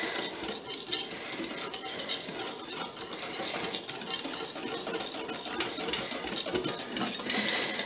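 Vanilla sugar being stirred into a tiramisu mixture in a bowl, a steady close scraping and rubbing with light utensil clicks running continuously, with no talk.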